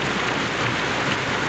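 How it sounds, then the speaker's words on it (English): Steady heavy rain falls in a 1932 film scene, a dense, even hiss close and loud throughout with no voices. "Rain."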